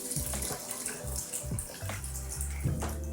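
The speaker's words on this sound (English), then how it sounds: "this is the filtered water that I use to make coffee, and I literally just leave it in here and just pour it in like this" Filtered water pours into the reservoir of a Breville Barista Pro espresso machine with a close, continuous gurgling splash, layered over a rhythmic low thumping pulse.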